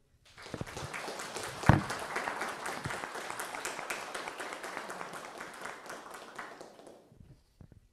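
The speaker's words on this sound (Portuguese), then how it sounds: "Então eu peço uma salva de palmas para esse trabalho da Loja Liberdade" Audience at a Theosophical lodge gathering breaks into applause, a sustained round of clapping from many hands with one sharp close clap early on, holding steady before tapering off into near silence.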